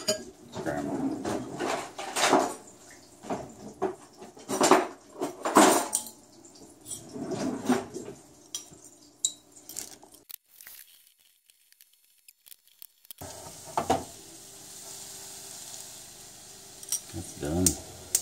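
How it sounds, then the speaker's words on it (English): Scrambled eggs being cooked in a pan bring repeated clinks and scrapes of a utensil against cookware, in irregular bursts with a pause midway, while a person talks between the sounds. "I'm gonna make some scrambled eggs"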